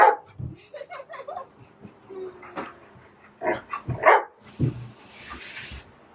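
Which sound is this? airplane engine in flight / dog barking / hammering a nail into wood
dog barking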